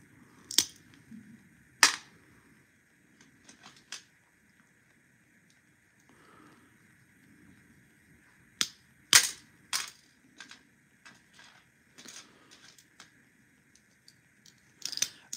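Glass nippers bite through slices of fused glass to cut flower petals for a garden suncatcher, giving sharp, close snaps and clicks that come in scattered bursts with quiet gaps between them.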